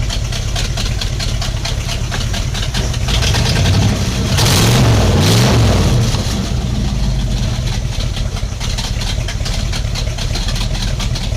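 The engine of a 1978 Dodge W-150 truck idles steadily and loudly up close, with a brief swell in the middle before settling back to an even rumble.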